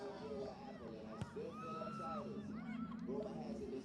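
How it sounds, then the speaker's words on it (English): A soccer crowd at a Toronto FC II versus Richmond Kickers match, cheering and shouting at a moderate distance in a busy, sustained babble of voices with scattered yells. "Let's cheer on orange to try to get back into this game and tie it up."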